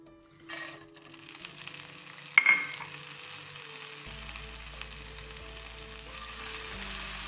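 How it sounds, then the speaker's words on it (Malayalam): Dried shrimp dry-roasting in a pan without oil, a quiet continuous crackle and sizzle with one sharp clank near the middle, heard close and faint. "ഇനി ഇതൊന്ന് നന്നായിട്ട് റോസ്റ്റ് ചെയ്തെടുക്കാം"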